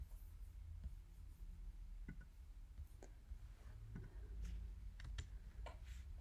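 Computer keyboard typing while writing Java code, a quiet run of scattered soft keystroke clicks and ticks over a low room hum, close and faint, with no talking.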